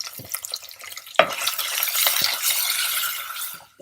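Garlic fries gently in a pan over low heat while a utensil stirs it, with scraping and clinks over a quiet, continuous sizzle and one sharp knock near the start.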